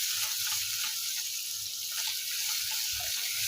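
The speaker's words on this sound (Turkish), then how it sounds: "Soğanlarımı da iyice ölmesini sağlıyorum arkadaşlar bu aşamada. Etlerim de güzelce kavruluyor." Meat and onions sauté in a pot over a high flame, giving an even, hissing sizzle that runs steadily without pauses, close and moderately quiet.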